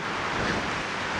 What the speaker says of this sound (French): C'est quoi ce vent?